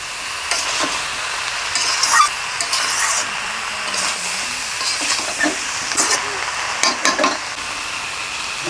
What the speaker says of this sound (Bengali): ভেজে রাখা আলু, ভালো করে নেড়ে নিচ্ছি।